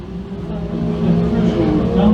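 Thundercar race cars roar around the oval at Can-Am Speedway late in a feature race, a steady layered engine drone building slightly louder, with an announcer's voice over it.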